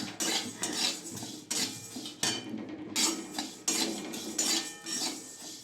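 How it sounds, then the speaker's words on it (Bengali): Moong dal dry-roasting in a wok, with a metal spatula scraping and clattering against the pan in steady bursts, fairly close and with no voices. "মুগ ডালটা ভেজে নেব"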